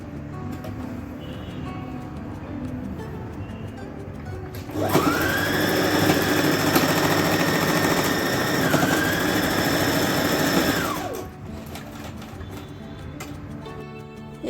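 A sewing machine stitches a blouse in one steady whirring run of about six seconds, with a rising then falling motor tone, set against quieter background hum before and after.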